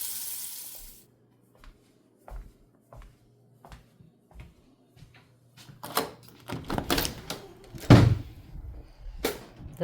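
A large steel pot is washed by hand at a sink by someone wearing gloves: scattered clinks and knocks, then running water and louder scrubbing and clanking close by.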